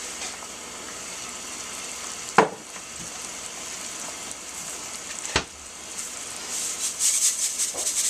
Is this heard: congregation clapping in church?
no